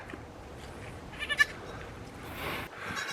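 Young goat kids bleat faintly on a farm, short cries calling for their mother against a soft outdoor background.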